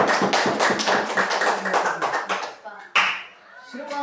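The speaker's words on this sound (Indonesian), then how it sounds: "Tepuk tangan untuk Latifah dulu." Classroom clapping for a student named Latifah after her presentation, a brisk burst of many hands tapping close by that thins out after about three seconds, with a voice speaking over the end.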